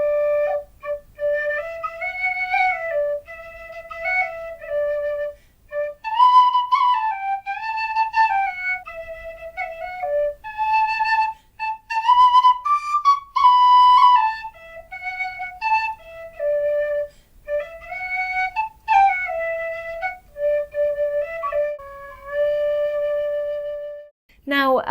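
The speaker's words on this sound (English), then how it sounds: "I have played the two of these for you so you could hear the difference in sound." A Carbony 'Leading Tone' pennywhistle plays a clear, pure melody of stepped notes with short pauses and some ornamented runs, solo and close, with no voices.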